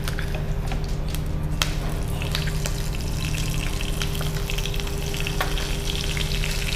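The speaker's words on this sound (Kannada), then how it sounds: "ಇವಾಗ ಸಾಸಿವೆ ಮತ್ತು ಕರಿಬೇವು ಹಾಕೋತೀನಿ. ಕರಿಬೇವೆಲ್ಲ ಫ್ರೈ ಆಗಲಿ." Mustard seeds, cumin and curry leaves frying in hot oil for a tempering, making a steady, dense crackling sizzle that runs unbroken throughout, with no talking.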